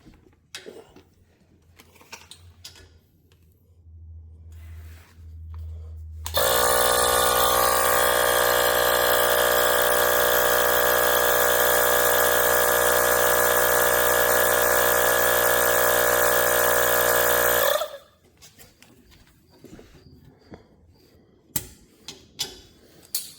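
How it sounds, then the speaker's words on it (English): A small Hero Bauer cordless air compressor filling air bags runs with a loud, steady mechanical buzz for about eleven seconds, starting and stopping abruptly, with quiet handling noises before and after. "now we're gonna use our little Hero Bauer cordless air compressor to fill those bags up"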